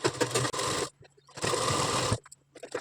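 A sewing machine top-stitches the waistband of a size 38 blouse in two close, rapid bursts of stitching separated by a short pause.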